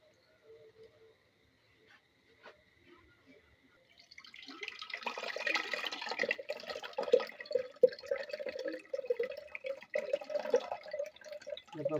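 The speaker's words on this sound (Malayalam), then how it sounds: "ഇപ്പോൾ പുളി പിഴിഞ്ഞിട്ട് ഒരു ചട്ടിയിലേക്ക് ഇതാ." Tamarind is squeezed by hand so its water pours into a cooking pot. After a quiet start there is a steady trickle of liquid with small drips and splashes, close by and moderately loud.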